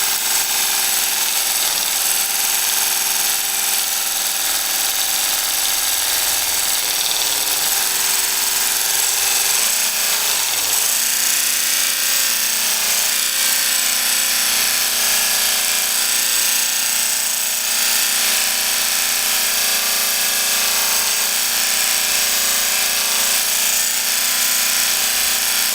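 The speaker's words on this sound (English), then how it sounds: "I mean, it is working, but man, I'm so used to a regular belt sander." A small belt grinder sanding a knife blade runs with a steady, loud, continuous whine and abrasive grinding for the whole stretch, without talking.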